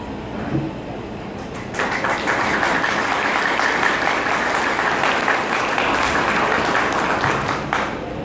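Applause for a graduating class at a university ceremony, a large audience clapping steadily for several seconds after a brief quieter start, broad and even.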